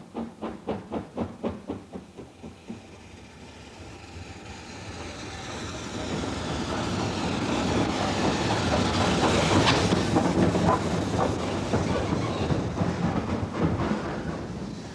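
A steam train chugs with rhythmic puffs that blend into a rising, steady roar and clatter of wheels on rails, passing close by.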